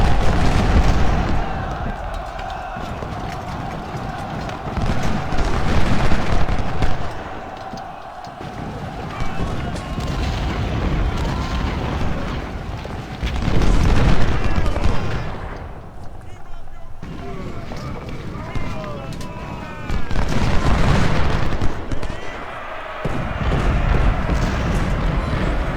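Cannon and rifle fire from a Civil War battle in Ultimate General: Civil War, steady booming volleys and crackling gunfire rolling on without a break, loud and dense.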